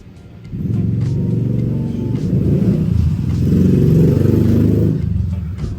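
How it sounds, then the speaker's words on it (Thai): A motor vehicle engine rumbles steadily nearby, swelling slightly as it passes, with a low droning tone and no speech. "ขอไปครับเสียงมอเตอร์ไซค์"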